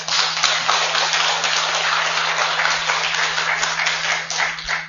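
A congregation at a Seoul temple worship service gives sustained applause of gratitude, a steady, even wash of many hands clapping for about five seconds over a low electrical hum.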